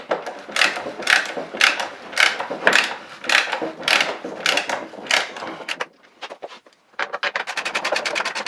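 Ratchet wrench snugging up bolts on a compost tumbler built from a 55-gallon plastic drum, with close, rapid repeated clicking strokes in steady bursts, a brief pause, then faster ratcheting.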